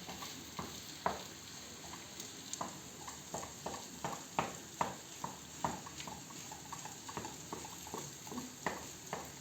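Eggs frying and being stirred in a pan for a home breakfast: a steady soft sizzle under a string of light scraping, tapping stirs at an irregular pace, close by, with no talk.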